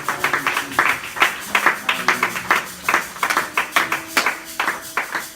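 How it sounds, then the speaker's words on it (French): A church congregation claps rhythmically in steady, fairly loud beats while cheering and acclaiming, with scattered voices mixed into the applause. "Acclamez pour le nom de Jésus"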